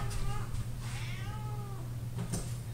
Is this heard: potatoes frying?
no